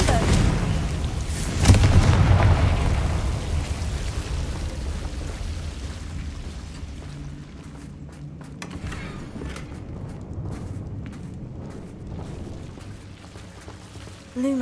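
Confringo fire spell explosions in the Hogwarts Legacy video game, a heavy booming blast early on that rumbles and fades into a long, lower battle din of softer impacts and crackles.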